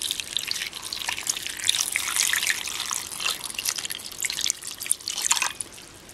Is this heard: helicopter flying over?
no